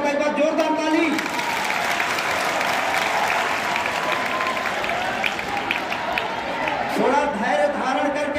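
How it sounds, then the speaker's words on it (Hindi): Loud, sustained applause from a school audience at a Republic Day function for students' one-act play, dense clapping filling the room throughout with crowd murmur mixed in. "एक बार जोरदार ताली।"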